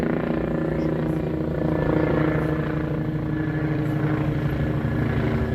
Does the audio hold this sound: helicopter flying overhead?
yes